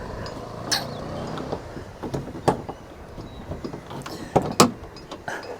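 A Mahindra E20 bonnet latch is released and the plastic bonnet lifted, giving a series of sharp plastic clicks and clunks, close and moderately loud, over a low background hum.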